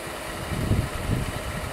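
A 1959 Ford Custom 300 idles with no exhaust or muffler on its first start after sitting outside for 46 years. It throws out a loud, raw, rumbling roar with uneven low thumps and no voices over it.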